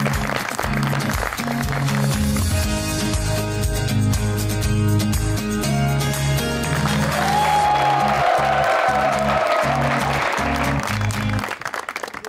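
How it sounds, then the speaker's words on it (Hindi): A studio audience applauds film star Resham on the talk show Aap Kay Sitaray, with sustained, loud clapping over background music that tapers off at the very end. "रेशम के लिए बहुत सी तालियां।"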